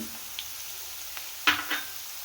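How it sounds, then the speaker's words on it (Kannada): Shredded cabbage stir-fries for veg hakka noodles with a soft, low hiss, broken by a couple of brief, sharper sizzling scrapes as it is tossed in the pan. "ಇದನ್ನು ಅಷ್ಟೇ ನೋಡಿ ಒಂದು ಟೂ ಮಿನಿಟ್ಸ್ ಈ ರೀತಿ ಚೆನ್ನಾಗಿ ಮಿಕ್ಸ್ ಮಾಡಿಕೊಂಡು ಫ್ರೈ ಮಾಡ್ಕೊಳ್ಳಿ"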